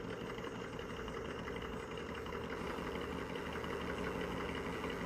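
An RC car's electronic engine sound simulator idles in a steady, buzzing mechanical loop, moderately quiet and continuous with no speech over it.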